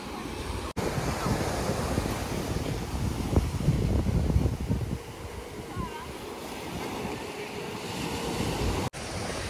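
Waves at Butterfly Beach in Goa, a loud rolling surf rush that swells in the middle and then eases, heavily mixed with wind buffeting the microphone and two brief dropouts.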